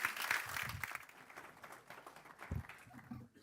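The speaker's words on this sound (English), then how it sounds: "Could we give him a round of applause," Scattered applause from a conference audience at an energy event, quiet and thin with uneven clapping fading in and out.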